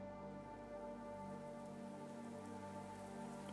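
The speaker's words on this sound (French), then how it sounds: "Une pluie calme tombe depuis le matin." Calm, steady rain falling on a grey morning in Finland, a soft, even patter on surfaces that stays constant and quiet throughout with no voices.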